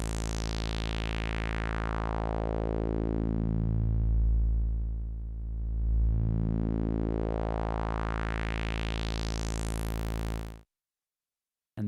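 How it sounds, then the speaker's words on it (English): An Audiothingies MicroMonsta synthesizer holds a steady buzzy tone while its filter, with resonance set about halfway, sweeps down and back up, closing to a dark muffled low point before opening bright again, then cuts off abruptly. "With the resonance about halfway, it sounds like this."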